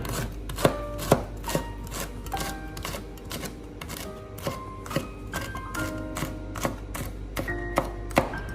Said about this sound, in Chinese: 准备6个小米辣，将小米辣切成圈